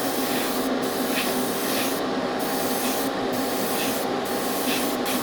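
A brush lays a light coat of paint over a Mandalorian model, making a close, steady, continuous rubbing swish that holds at an even level throughout, with no pauses and no voices.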